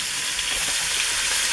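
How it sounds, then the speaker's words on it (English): Pork country ribs sear in hot oil in a cast iron Dutch oven, giving a loud, steady, close sizzle that continues without a break. "Now we're going to do a little searing."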